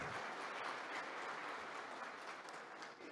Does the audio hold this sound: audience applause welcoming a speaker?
yes